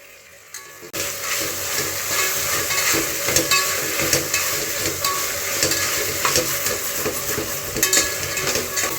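Onions and green peas fry in a pan for ghee rice, a steady bright sizzle with frequent scraping stirs and light clinks that starts abruptly after a second of near-silence and continues unbroken, with no talking.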